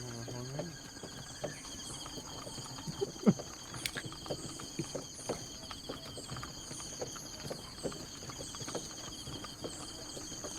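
Horses pulling a carriage in a video game, their hooves clip-clopping in a steady stream of soft, regular knocks against an ambient game backdrop with bird-like chirps, while a voice talks over it.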